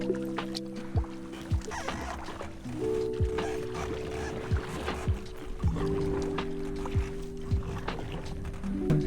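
Kayak paddle strokes dip and splash in still water near an abandoned flooded house, a few soft watery plunges and drips spaced a second or two apart, close and fairly quiet over a faint hum.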